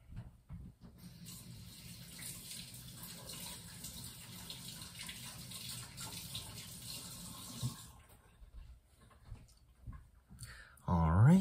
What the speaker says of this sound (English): And go rinse my hand real quick.